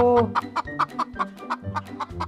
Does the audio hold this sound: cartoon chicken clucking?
yes